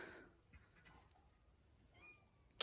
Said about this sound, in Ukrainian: Кітя, нявкай.